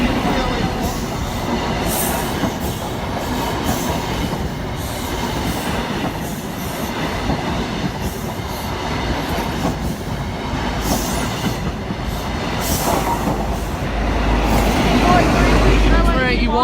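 An East Midlands HST high speed train passes close by at a busy level crossing at Newark Castle, a loud continuous rumble of wheels and rail noise with some squeal. A voice speaks beneath it.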